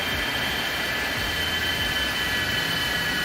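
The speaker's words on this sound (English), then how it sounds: "As you listen to those engines spool down." Jet engines of an iniBuilds A300 freighter in X-Plane 11 spool down after shutdown at New Orleans, a steady broadband roar with a high whine, loud and unbroken throughout.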